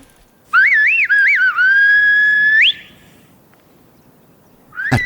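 A single performer of Silbo Gomero, the whistled language of La Gomera in the Canary Islands, gives a loud, clear whistled phrase with rising and falling pitch glides lasting about two seconds, then a brief whistle onset at the end.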